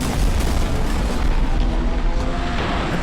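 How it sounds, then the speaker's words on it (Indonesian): A deep, rumbling blast that roars on for a few seconds, loud and heavy like a large explosion, from a racing car exploding in a film. "Dia membuat mobil pembalap lain tiba-tiba terlempar dan akhirnya meledak."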